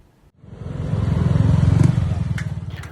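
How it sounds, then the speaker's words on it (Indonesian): A motorcycle fitted with a loud aftermarket brong exhaust fires up after a brief silence. It gives one close, rough, throbbing rev that swells over about two seconds and then eases off. "Puluhan motor berknalpot brong atau bogart terjaring razia selama Ramadan"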